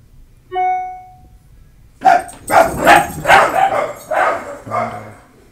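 Several dogs bark in an office, a burst of loud, close barks in quick succession after a short tone, ending with a lower bark or two.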